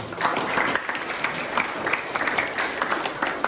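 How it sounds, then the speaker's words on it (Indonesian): A small group claps together in sustained applause, moderately loud, with a faint voice or two mixed in. "Tepuk tangan dulu untuk Dani."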